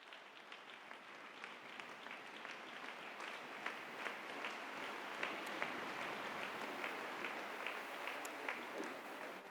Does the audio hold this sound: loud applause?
yes